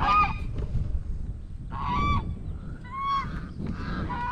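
Geese honk loudly in several separate bursts, close by, with rough outdoor background noise between calls.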